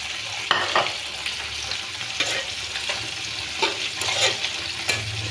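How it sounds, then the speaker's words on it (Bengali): Chopped onion frying in hot oil in a wok for a fish dish, a steady broadband sizzle with occasional stirring scrapes, close and continuous with no talk. "তেলটা গরম হয়েছে, এখন আমি পেঁয়াজ কুচি দিয়ে দিব মাছের জন্য।"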